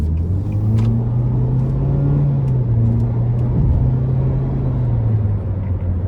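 A 2013 Nissan Juke SL with a 1.6-litre turbocharged four-cylinder, in Sport mode, pulls hard out of a corner. Its engine drone is steady and close, and the pitch climbs gently as it accelerates. No one speaks.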